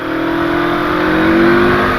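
A CFMOTO 650 MT motorcycle on a twisting mountain road with Kayaba suspension accelerates hard, its engine note loud and close, a steady rising drone with slight pitch climb over two seconds.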